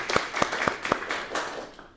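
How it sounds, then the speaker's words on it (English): Conference audience applauding at an academic seminar on LGBT rights in Central and Eastern Europe, a few sharp separate claps at first that soften into a faint, thinning patter. "let's make an applause to everyone."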